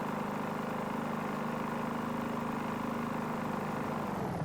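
A car engine in the racing game Barro 22 drones steadily like a ride-on lawnmower, a buzzy, even, mid-pitched hum that holds constant for the whole stretch with no talking.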